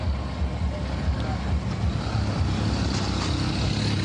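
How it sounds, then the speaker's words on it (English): Road traffic on the Benin bypass in Edo State, with a dense, continuous rumble of vehicle engines close by and no distinct pass-bys. "See traffic."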